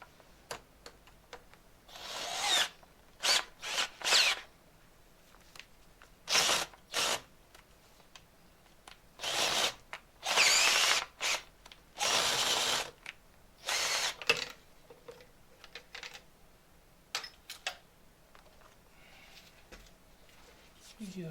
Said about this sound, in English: Might have to run the drill in